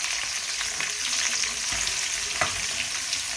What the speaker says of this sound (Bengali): তেলে পেঁয়াজ কুচিটা দিয়ে দিলাম